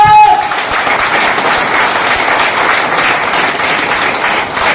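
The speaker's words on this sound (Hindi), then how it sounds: "ताली हो जाए जोरदार।" Enthusiastic audience clapping at a live business-plan seminar, a steady sustained round of applause with some voices underneath, beginning after a brief tone at the start.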